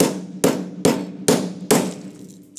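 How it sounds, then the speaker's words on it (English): Five sharp, evenly spaced hammer blows strike a quartz mineral sample up close, each crack ringing briefly before the next, with no voices. "I'm going to hammer it and see what happens"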